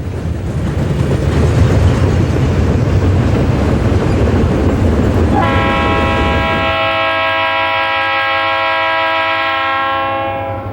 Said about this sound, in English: the freight is eased down the last portion of the grade into town.